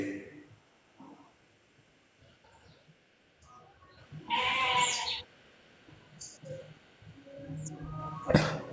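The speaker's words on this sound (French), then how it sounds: "C'est la chèvre qui me répond maintenant." A goat bleats loudly at close range in one sustained cry midway, with a sharper shorter call near the end, amid scattered background voices and room noise.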